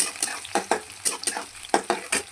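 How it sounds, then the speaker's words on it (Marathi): Onion stirred in hot oil in a pan, with regular scraping strokes over a soft sizzle, close and moderately loud, no voices. "तेल गरम झाल्याच्या नंतर कांदा टाकायचा"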